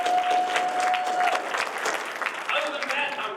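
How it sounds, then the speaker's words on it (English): An audience at a student versus faculty poetry slam breaks into dense, sustained applause from a crowd, with some voices and whoops mixed into the clapping. "So let's give them a round of applause."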